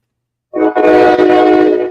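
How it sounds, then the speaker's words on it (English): A passing train sounds its horn outside, a loud sustained chord that starts abruptly, briefly dips, then holds steady and strong for over a second without any voices. "sorry, I know you can hear that train."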